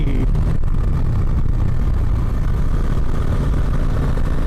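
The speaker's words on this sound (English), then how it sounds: "Listening to your own bike's exhaust note, riding through these ghats" A steady, loud motorcycle engine and exhaust drone runs throughout, a continuous low rumble while riding through the Western Ghats near Kudremukh, Karnataka, with no breaks or talk.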